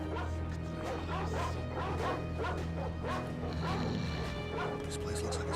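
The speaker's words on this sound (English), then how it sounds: "These are some rather vicious-looking, hungry dogs." Guard dogs at a prison in the video game Inversion bark and yip repeatedly in a steady, agitated rhythm over a low droning background, mid-distance and fairly loud, with someone talking over them.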